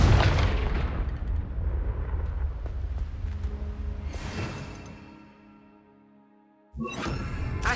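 A Confringo blasting spell detonates in Hogwarts Legacy, a heavy booming explosion that rumbles and slowly fades to near silence before a second sharp blast bursts in at the end.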